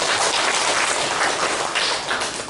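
A congregation at a Sunday worship service breaks into applause, a loud, close, steady wash of many hands clapping with no speech over it.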